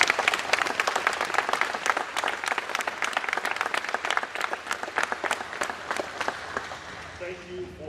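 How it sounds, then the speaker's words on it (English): Applause for the police at a community meeting: a room full of people clapping in a dense, sustained patter that thins slightly toward the end, moderately loud, with a voice faintly present beneath it. "Let's give our police a round of applause."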